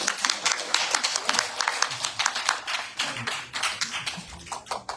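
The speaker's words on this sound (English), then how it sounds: "Give her a round of applause." Audience applause at a Bronx Arya Samaj 149th Foundation Day gathering, a steady, dense patter of many hands clapping at moderate volume that continues for the whole stretch.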